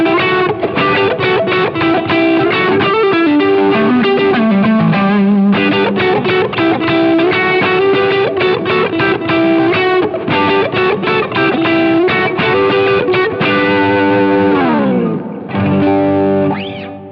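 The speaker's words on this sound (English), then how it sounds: "And that guitar solo sounds like this." A heavily distorted electric guitar plays a continuous solo of fast sustained notes and bends, loud and up front, with no voices.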